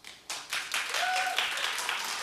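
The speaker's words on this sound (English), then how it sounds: "Clap if you watched." A studio audience breaks into steady applause that swells quickly and holds at full strength, with a few whoops and a voice mixed in.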